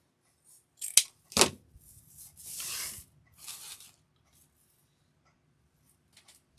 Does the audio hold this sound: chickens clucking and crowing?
no